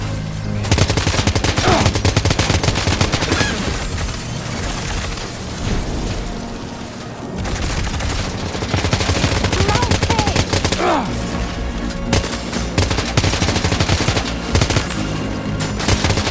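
Rapid gunfire and booming blasts from a mech boss fight in the video game Death Stranding 2, dense and continuous throughout with loud bursts and a brief lull midway.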